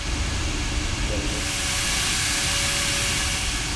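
Boeing 737 MAX jet engine in Microsoft Flight Simulator, a steady loud broadband roar and hiss that holds constant throughout, brightening slightly after the first second.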